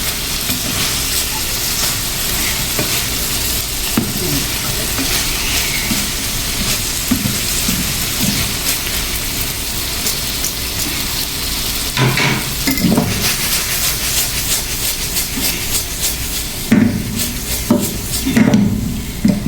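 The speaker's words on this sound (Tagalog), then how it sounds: "Para sa ating sisig haluin." Bangus (milkfish) sisig is stirred in a hot pan, with a steady close sizzle under repeated scraping and clattering strokes of a utensil against the pan, louder bursts near the end.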